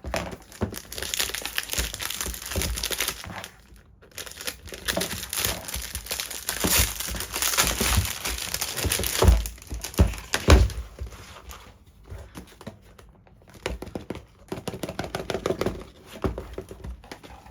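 A 6x6 dodecahedron puzzle cube is unboxed, with close crinkling and rustling of packaging, cardboard scrapes and a few soft thunks in bursts separated by brief quiet moments.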